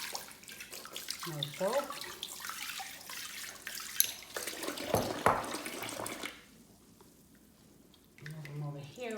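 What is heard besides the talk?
water sprayer rinsing a silicone baby doll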